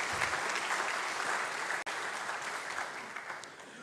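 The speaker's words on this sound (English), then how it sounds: "Please, a round of applause for Dr." Audience applause for keynote speaker Dr. Kamata at a Nyerere commemoration event: a continuous wash of clapping from a sizable crowd, steady and moderately distant, with one brief dropout midway.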